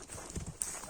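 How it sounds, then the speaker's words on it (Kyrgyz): A horse is made to run, giving a quick burst of close hoofbeats, a few rapid clops within a second, followed by a sharper knock. "Бир жылоосун көрөлүчү аттын. Ордунан бир атырылтып кой"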